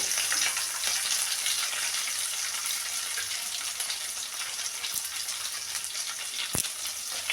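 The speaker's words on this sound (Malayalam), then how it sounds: "നല്ലോണം മൂക്കട്ടെ രണ്ട് പച്ചമുളക്" Green chillies frying in hot oil for a small freshwater fish (paral meen) curry: a dense, continuous hiss and crackle close by, with one sharp clack near the end and no talking.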